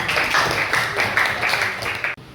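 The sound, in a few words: class clapping hands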